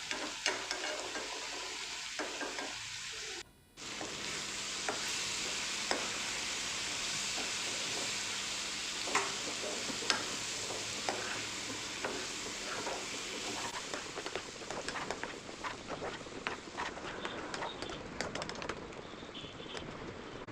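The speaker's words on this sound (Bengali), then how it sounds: "গ্যাসের ফ্লেমটা মিডিয়াম রেখে এটাকে ফ্রাই করে নিতে হবে" Masala for a prawn curry frying in a pan over a medium gas flame, a steady soft sizzle with occasional spatula scrapes and stirring clicks, fairly quiet and continuous, with a brief gap early on.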